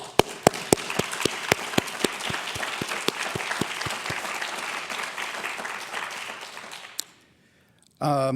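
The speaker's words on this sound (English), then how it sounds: "So I'd like to give them a round of applause." An audience applauds veterans at a university Veterans Day ceremony, with sharp individual claps standing out over steady clapping for about seven seconds, then fading to near silence before a loud burst returns at the end.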